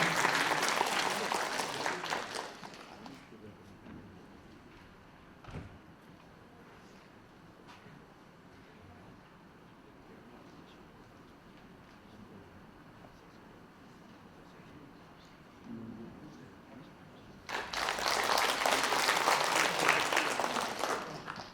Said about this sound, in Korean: 여러분들 뜨거운 환영의 박수 부탁드립니다.